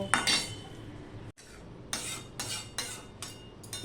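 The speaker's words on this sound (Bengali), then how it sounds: "অল্প জল দিয়ে আমি সম্পূর্ণটা ভালো করে মিশিয়ে নেব" A spoon clinks and scrapes in a pan while small fish curry is mixed with a little water, several distinct metallic stirring strokes up close after a brief pause.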